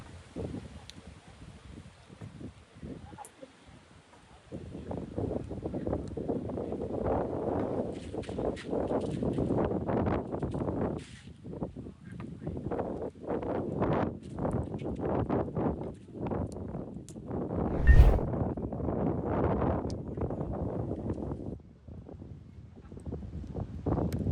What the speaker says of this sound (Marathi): बघा कसा वारा सुटलाय